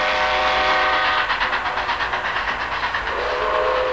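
A train running on rails, used as a comedy skit sound effect, gives a loud continuous rumble with a rhythmic clickety-clack, and no talk over it.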